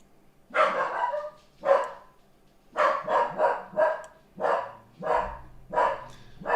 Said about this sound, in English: This dog.